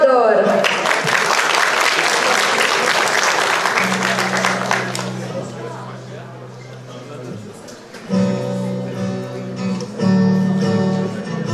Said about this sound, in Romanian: Aplauze pentru Eliza și Teodor.